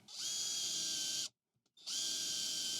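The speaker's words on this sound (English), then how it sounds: "And now I can finish it off with the 6 millimeter drill bit." A power drill with a 6 millimeter bit whirs at high speed through wood in two steady bursts, separated by a short pause, close and loud.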